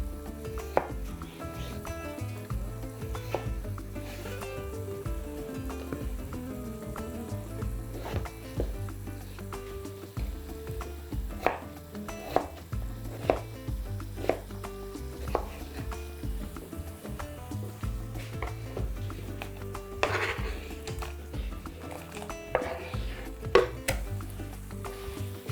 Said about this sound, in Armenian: կտրատում ենք խորանարդիկների։